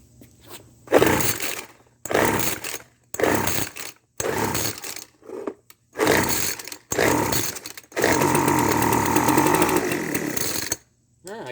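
A trashed Weed Eater leaf blower's small two-stroke engine fires in repeated short bursts of high revving roar separated by silences, then runs continuously for a few seconds before cutting out.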